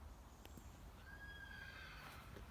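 Faint and distant, a horse gives a short whinny over a steady outdoor hum, with a few soft hoof knocks.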